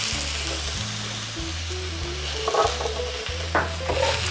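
Vegetables sautéing in a pan give a steady sizzle with stirring and occasional scraping knocks, close and moderately loud, with no one talking.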